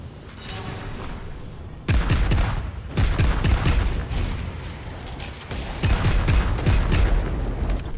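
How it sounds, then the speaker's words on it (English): Loud explosive blasts in the Soulslinger Envoy of Death video game, sharp booming impacts around two, three and six seconds over a continuous roar of gunfire and combat noise, with no speech. "Jesus, what was that? An explosion?"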